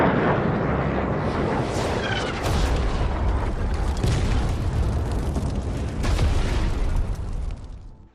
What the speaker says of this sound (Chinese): 竟然肆无忌惮地轰炸我方谈判代表团的驻地。